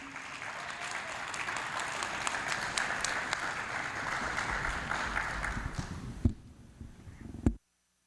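Applause from a school event audience greets the Cimarron Elementary team, a dense steady clapping that fills about six seconds before thinning out and stopping abruptly.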